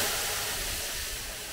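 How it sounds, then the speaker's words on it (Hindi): A continuous broad hiss of steam comes off as water is thrown onto the heater in a hot sauna, close up and steady, slowly fading slightly. "इस तरीके से भाप उठती है"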